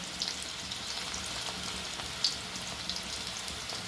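Ground palak paneer spice paste frying in a pan makes a soft, steady sizzle with faint crackles and one brief louder pop, quiet and without talk.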